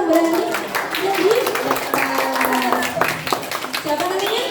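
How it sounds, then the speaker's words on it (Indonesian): Students clapping during a school anti-drug awareness session, scattered sharp hand claps running under an adult voice and other talk that stays on top through the whole stretch. "kita kasih tepuk tangan dulu dong"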